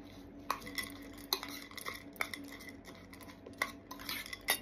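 A spoon stirs and mixes wet cat food with dry kibble in a bowl, a close series of scraping clinks and soft squelchy stirring strokes in an uneven rhythm.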